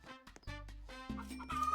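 Chickens cluck in a short burst of cartoonish clucking and squawking from a chicken-farm video game, loud and clear with no talking.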